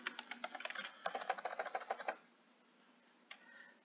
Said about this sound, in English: And I'm typing in the dark.